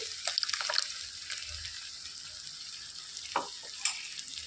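Soft, quiet sizzling of a ground spice paste frying in hot oil in a pan for spinach gravy, with a few scraping stirs and light clicks, no voices.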